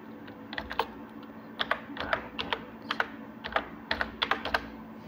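Keys clatter on a computer keyboard while a name is typed into a Microsoft Word 2010 ID card layout, quick bursts of clicks in short irregular runs, close and clear over a faint steady hum, no talking.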